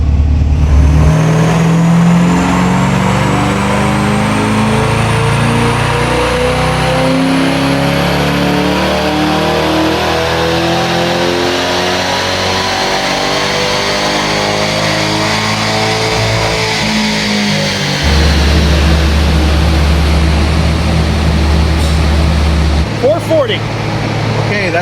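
A flex fuel C8 Corvette E-Ray on a dyno, its engine loud and close as it revs steadily upward through a long pull before dropping back, with a voice heard over it.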